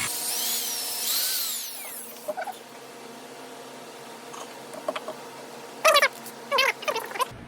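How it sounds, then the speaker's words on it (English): A small power drill with a small bit whines briefly at the start drilling stainless steel, followed by scattered metallic scrapes and clicks toward the end. "I don't want to push too hard with a drill bit, small drill bit."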